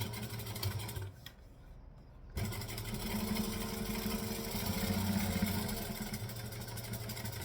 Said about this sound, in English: And then I'm going to top stitch this edge.